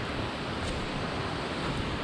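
Cascade du Rouget waterfall in the Alps pours in a steady, loud, broadband roar, a continuous wash of rushing water with no pauses and no voices.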